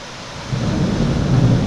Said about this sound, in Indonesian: Suara hujan sama ini apa?